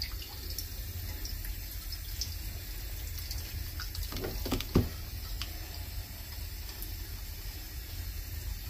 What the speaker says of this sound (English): going to give these just a little bit of water.